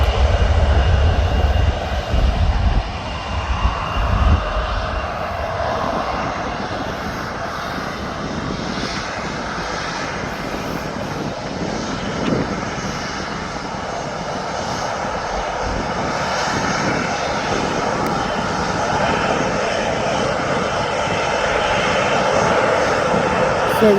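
A departing airliner bound for Rostock roars steadily at a distance, its engine noise broad and sustained throughout, loudest at the start and holding a constant rumble; no speech is heard.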